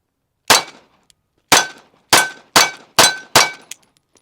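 A ported Smith & Wesson Bodyguard 2.0 pistol with an optic cut fires six sharp, loud, close shots at uneven intervals, each with a short ringing tail.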